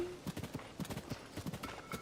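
A pink horse's hooves clip-clop at a steady, quick gallop rhythm in The Legend of Zelda: Tears of the Kingdom, with a brief in-game tone at the start.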